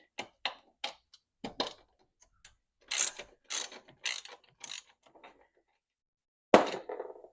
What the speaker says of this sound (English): That bolt is spinning, so I'm going to have to get a wrench and hold on to that.